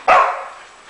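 A dog gives one sharp, loud bark close by, barking on command.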